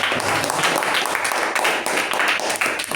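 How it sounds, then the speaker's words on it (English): A small group at a Toastmasters meeting gives a short round of hand clapping, close and somewhat uneven, lasting only a few seconds. "So let's give her a round of applause"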